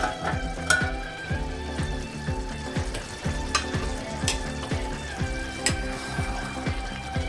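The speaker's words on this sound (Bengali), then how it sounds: "আর একটু নাড়াচাড়া করে নিচ্ছি।" A cabbage and potato curry is stirred in a pan over low heat, with a soft steady sizzle and repeated scraping strokes of a spoon against the pan at a regular rhythm, fairly close but quiet.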